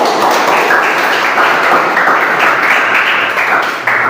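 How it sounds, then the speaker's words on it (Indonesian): Students applaud in a classroom during a teaching session, a loud, close, continuous clatter of many hands clapping that holds steady before dropping off abruptly at the end. "Ya, tepuk tangan dulu."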